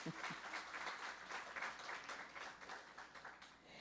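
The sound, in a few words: audience applause welcoming first-time visitors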